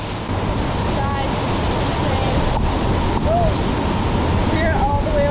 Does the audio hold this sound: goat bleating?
no